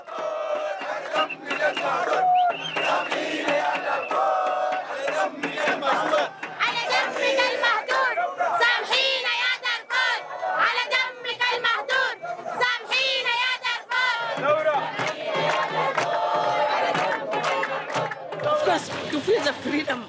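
Large crowd at a Sudanese revolution rally chanting and shouting together, loud and dense throughout, with ululating cries and voices rising and falling in rhythmic waves.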